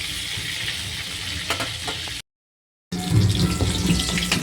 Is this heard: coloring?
no